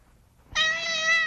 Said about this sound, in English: get that cat out of here.